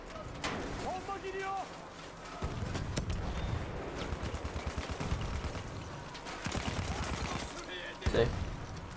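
Gunfire in the World War I shooter Battlefield 1 crackles in rapid automatic bursts and scattered shots amid battle noise, moderately loud, while a player talks over it.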